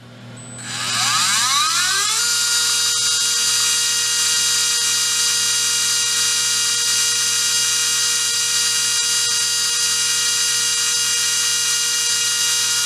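An RC brushless motor spins up over about two seconds to a steady high-RPM whine near 28,000 RPM, then holds a loud, constant electric tone with a tight harmonic buzz, close and without speech.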